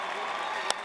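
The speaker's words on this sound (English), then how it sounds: "Let's give them a round of applause." A brief burst of audience applause at a university commencement ceremony, dense, even clapping filling a large hall, with one sharper clap standing out near the end.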